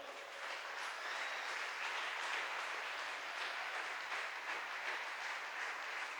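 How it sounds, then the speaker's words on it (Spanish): A church congregation at a Spanish-language evangelical service applauds in a dense, continuous wash that stays fairly even for several seconds, with no voices over it. "Dele un aplauso al Señor."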